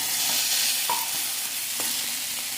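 Tomatoes sauté with salt in a pan for tomato dosa, giving a steady, close sizzle broken by occasional scrapes and taps of a stirring spoon.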